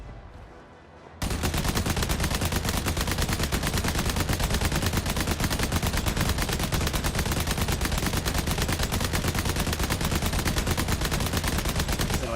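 Dense, rapid automatic gunfire from the Starship Troopers video game bursts in after a quiet second and keeps up loudly and without a break to the end.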